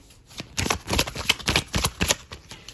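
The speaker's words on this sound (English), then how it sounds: "I guess these turned over as I was shuffling" Tarot cards riffle and slap together in a close, rapid shuffle, a dense run of crisp papery bursts with no talking.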